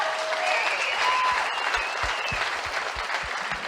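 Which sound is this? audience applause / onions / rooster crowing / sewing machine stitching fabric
audience applause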